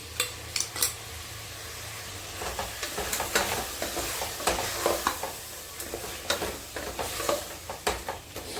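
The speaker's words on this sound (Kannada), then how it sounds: "ಆ ಮಿಕ್ಸಿ ಮಾಡಿರೋ ಪೇಸ್ಟ್ನ ಸಹ ಇದರಲ್ಲೇ ಹಾಕ್ಕೊಂಡು ಫ್ರೈ ಮಾಡ್ಕೊಳ್ಳೋಣ ಚೆನ್ನಾಗಿ" Ground spice paste fries with drumsticks in a pan for biryani, a steady sizzle under repeated scraping and clinking of a metal spoon stirring against the pot.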